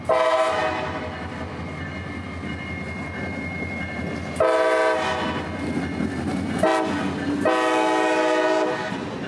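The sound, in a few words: EMD locomotive horn on freight train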